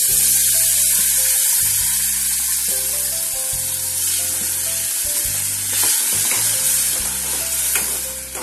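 Potato curry with tomato puree frying in a pan while being stirred gives a loud, steady sizzle broken by scraping stir strokes, all set against background music.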